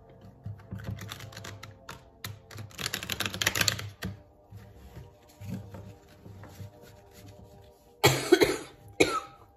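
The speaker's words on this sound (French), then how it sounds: "je tousse encore un petit peu." A few coughs near the end, close and abrupt, following a stretch of steady keyboard typing with faint clicks throughout.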